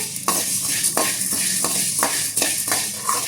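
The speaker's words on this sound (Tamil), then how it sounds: "ஒரு டூ மினிட்ஸ் நல்லா வறுத்து எடுத்துக்கணும் இந்த மிளகை" Black peppercorns dry-roasting in a pan over a low flame for homemade rasam powder: a continuous dry rattle and sizzle, with rhythmic scraping stirs about every half second, loud and close, no talk.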